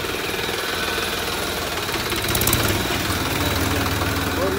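A tractor engine idles nearby with a steady, rumbling, knocking chug that continues throughout.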